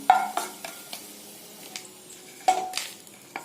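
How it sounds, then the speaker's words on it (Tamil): A lump of asafoetida frying in sesame oil in a pan, a soft steady sizzle with occasional clinks and stirring scrapes of a utensil against the vessel, close and fairly quiet. "இந்த பெருங்காயம் பாருங்க நல்ல எண்ணெயில் பொரியுது பாருங்க"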